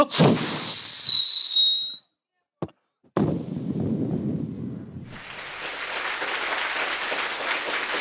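A voice imitates a rocket firework: a rising whistle followed by a burst, then a pause before clapping and rushing crowd-like noise.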